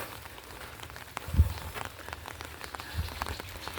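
Steady rain pours at a Thai temple in Samut Songkhram, a dense continuous patter on surfaces with a few heavier drips standing out.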